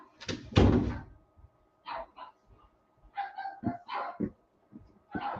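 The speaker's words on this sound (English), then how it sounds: "He's barking." A dog barking indoors at home: several separate sharp barks in short bursts with gaps between them, fairly close and moderately loud, with a thud near the start.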